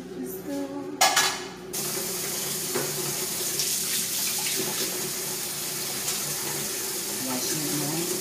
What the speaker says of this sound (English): Washing my hands. Washing my hands.